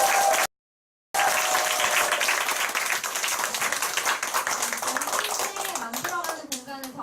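Audience applause at a group business meeting, dense steady clapping from many hands after a brief cut, gradually thinning toward the end as a voice begins to speak over it.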